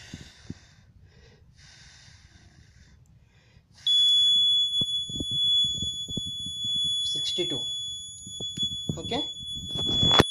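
A home automation alarm buzzer on a Raspberry Pi setup switches on partway through and keeps up a steady, loud, high electronic tone, while a person talks briefly over it and handling noises come and go.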